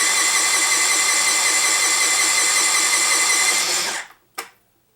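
An RCBS Universal Case Prep Centre trims a brass cartridge case with a steady, close, high-pitched motorized whir. The whir stops abruptly near the end, followed by one short click.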